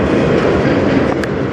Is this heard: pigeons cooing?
no